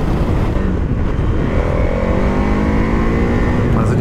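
A KTM 1290 Super Adventure S motorcycle engine runs with a continuous, loud rumble and rising revs, heard close up throughout.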